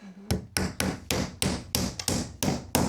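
Hammer driving nails into old timber VJ boards during a hundred-year-old Queenslander renovation, landing about nine sharp, evenly spaced blows in quick succession, close and loud with no talking.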